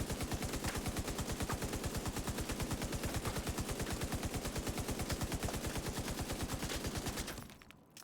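Rapid automatic gunfire in The Division 2, rounds fired into the ground, a fast, evenly spaced stream of loud shots running unbroken for about seven seconds before stopping abruptly.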